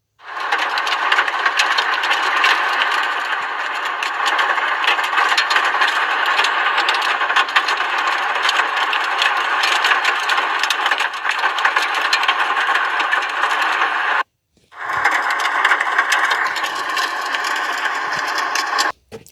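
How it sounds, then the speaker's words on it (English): Hail hammering the roof of a vehicle during a storm, a dense, loud, continuous rattle of countless impacts overhead that stops abruptly for a moment before resuming just as hard. "this was the hail on top, hitting the top of our vehicle"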